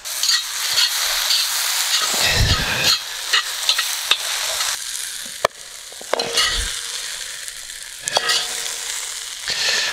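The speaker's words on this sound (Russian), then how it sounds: "минуту пассируем нашу томатную пасту вместе с луком" Onion and tomato paste sizzle and hiss in a cauldron over a campfire while a spoon scrapes and stirs, with occasional clatters and low thumps, while cooking kharcho soup.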